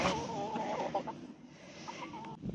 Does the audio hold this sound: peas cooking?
no